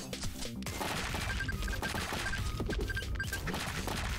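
Dense, rapid gunfire from a survival action video game with a pet turret, with overlapping shots and bullet impacts that form a continuous loud barrage through the whole clip.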